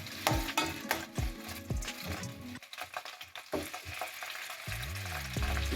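Chopped onions and curry leaves fry in a hot pan for a tin fish chutney, giving a loud, continuous sizzle close up, with a few sharp stirring knocks early on.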